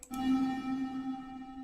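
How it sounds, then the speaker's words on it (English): A sustained synthesized tone drenched in heavy reverb from the LMMS reverb effect, with a brief attack followed by a long, smooth wash that holds steady and slowly thins, heard alone with no talk. "you get a hell of a lot of reverb"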